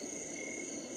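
Summer Night setting on a Homedics SoundSpa white noise machine, steady layered insect chirping and frog-like trills in a continuous, even drone, moderately quiet with no talking.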